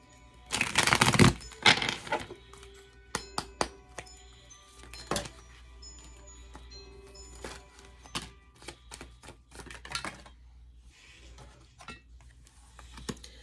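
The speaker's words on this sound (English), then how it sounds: "One more shuffle." Quick riffling rustle of tarot cards being shuffled near the start, then scattered crisp taps and flicks as cards are squared and handled, fairly quiet with no talking.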